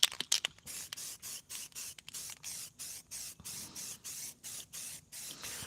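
A PVC pipe bird house gets spray painted in a quick series of short, sharp aerosol hisses at a steady rhythm, close and fairly loud, with a few rapid bursts at the start.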